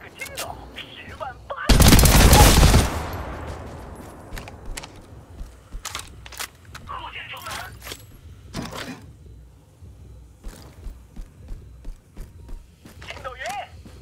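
A loud, dense burst of video game gunfire lasting about a second near the start, followed by scattered sharp shots, footsteps and speech through the rest.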